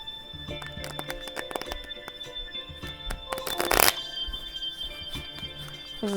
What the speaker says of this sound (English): Shuffle the cards together.